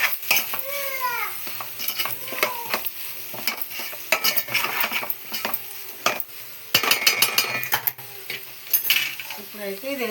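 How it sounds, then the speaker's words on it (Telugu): Egg Maggi noodles with coriander being stirred in a pan, with a soft sizzle under quick spoon scrapes and metallic clinks against the pan, close and irregular, with faint voice-like sounds briefly mixed in. "ఇప్పుడు కలుపుకోవాలి."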